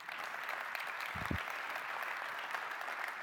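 An audience at a summit gives a steady wash of light applause from a distance. The clapping is faint and sustained, with a brief low thump partway through.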